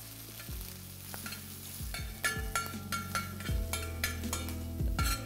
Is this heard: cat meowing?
no